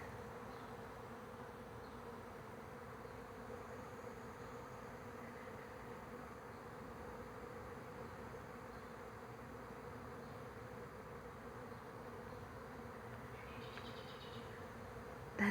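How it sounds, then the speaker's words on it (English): A huge colony of bees high in the top of a tree gives off a dense, steady buzzing that drones on without a break for the whole stretch, heard from below with no talking. "You can literally hear them. That is how many bees are up there."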